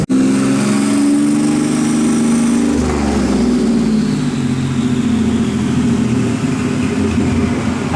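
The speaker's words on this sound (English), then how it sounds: "Got the truck strapped up, it's running right now, it's all ready to go." A turbocharged 3.9 engine in a Dodge Dakota pickup runs steadily on a dyno, a loud continuous drone with a shift in pitch partway through, heard close with no talking.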